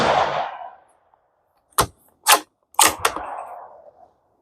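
A Tikka T1x rifle in 17 HMR firing Hornady 17 grain VMAX rounds at 50 yards outdoors: a few sharp, loud cracks spaced over about two seconds, each with a brief ringing tail, after a quiet pause.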